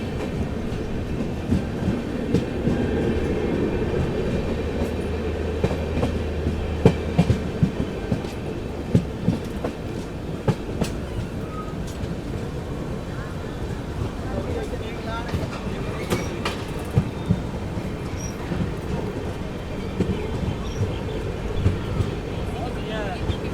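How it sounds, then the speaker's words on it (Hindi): Lichchavi Express train rolling into Gyanpur Road station, a steady low rumble of wheels and carriages with scattered clacks and clicks, continuous and fairly close throughout. "ज्ञानपुर रोड पे ही अराइवल हो रहा है आप लोगों का प्रयागराज रामबाग हावड़ा जंक्शन विभूति एक्सप्रेस का"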